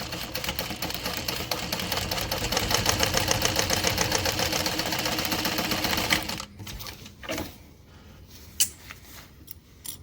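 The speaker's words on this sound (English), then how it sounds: "You can sew right down this line at the side here." A sewing machine stitches a straight seam down the side of folded fabric, running loud and steady for about six seconds before stopping, followed by a few faint handling clicks.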